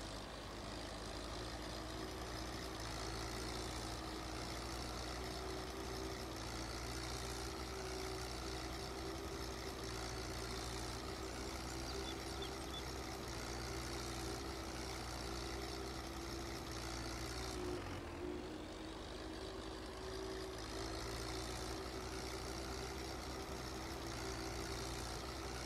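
A tractor in Farming Simulator 22 labours with two trailers hitched, its engine droning in a steady, heavy, continuous rumble with one brief dip partway through, alone with no talking.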